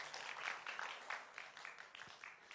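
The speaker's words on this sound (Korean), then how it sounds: "박수 박수." A church congregation gives a short, moderately faint round of clapping that stays even and dense throughout.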